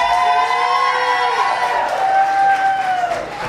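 A comedy club crowd at a lounge cheers and whoops loudly, with raised voices blending into an excited roar.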